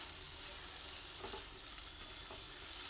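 Curry with potato, brinjal and rohu fish oil frying in a pan as garam masala powder is stirred in, a steady quiet sizzle with a few soft scrapes of the spoon, no voices.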